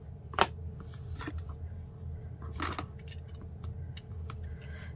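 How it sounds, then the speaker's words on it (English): Scissors snip through paper during a papercraft project, giving a few crisp, close cuts spread across a quiet room with low background hum. "I'll cut that with my scissors."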